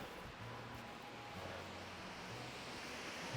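Wind sweeps across an open slope in the Carpathian mountains as a steady, faint broadband rush with low buffeting. No other sound rises above it.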